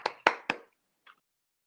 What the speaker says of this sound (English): I'm applauding myself.